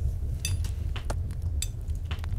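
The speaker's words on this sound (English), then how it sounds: "it's the sound of him building" Construction sounds from the video game Timber and Stone as a character builds: scattered light clinks and knocks, several in quick succession, over a steady low background hum.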